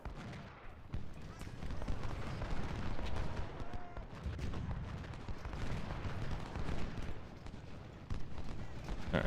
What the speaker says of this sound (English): We've gotten our artillery into the game here.